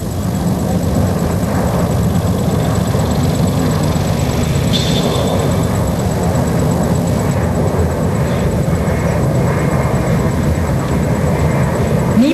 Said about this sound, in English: You can now see the IL-76 flying towards us.